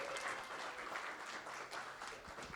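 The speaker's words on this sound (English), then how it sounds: "Can we also get a quick round of applause for Nanette Messajuns for arranging tonight?" Audience applause at a historical society's annual membership meeting, a steady wash of many hands clapping that holds at an even level throughout, heard from some distance and rather faint.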